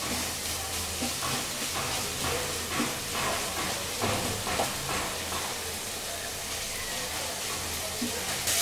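Vegetables for khichuri frying in oil in a pan, a steady close hiss and crackle of sizzling that runs unbroken throughout with no talk over it.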